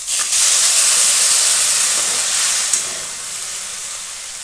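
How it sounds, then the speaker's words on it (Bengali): Water poured onto rice fried in ghee, erupting in a loud, bright hiss of steam and sizzle that rises at once and slowly eases off over a few seconds, heard alone. "ঘিয়েতে আমি চালটা ভালো করে নেড়ে নিয়েছি, এখন এতে সেদ্ধ করার মতো জল দেবো।"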